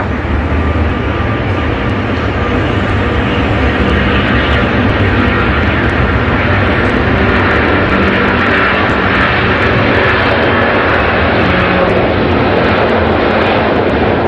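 An Airbus A380 taking off from runway 14 right gives a loud, steady, close jet roar that holds unbroken for the full length, with no voices.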